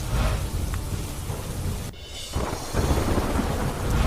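Heavy monsoon rain pours steadily on surfaces in flooded Bharuch, with rolling thunder rumbling low beneath the downpour; a brief lull near the middle before the dense rain roar returns.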